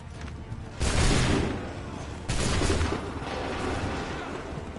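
Two musket volleys in the video game Assassin's Creed 3, each a loud ragged burst of many shots fired together, followed by a lingering rumbling tail, with the second volley about a second and a half after the first.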